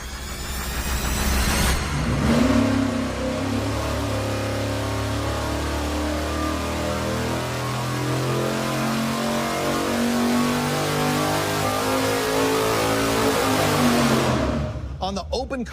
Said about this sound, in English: we're going to fire it up and run it with no air filter on it at all